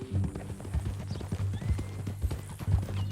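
Horse hooves clip-clopping at a steady walking pace in the Red Dead Redemption 2 video game, clear, close hoof strikes in an even rhythm with faint ambient noise around them.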